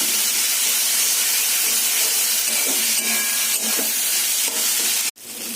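Spices, ginger paste, cumin, chillies and chickpeas for ghugni sautéing in a hot pan, a loud steady broadband sizzle with faint stirring scrapes, close up, ending abruptly before a brief quieter hiss.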